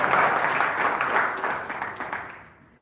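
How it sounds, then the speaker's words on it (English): An audience at a gathering applauds a speech, a dense burst of clapping that holds briefly and then fades away to silence. "I think we should all give him an applause."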